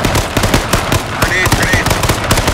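Rapid automatic gunfire from the Z1 Battle Royale video game, dense repeated bursts of loud shots over about two and a half seconds with steady combat noise underneath.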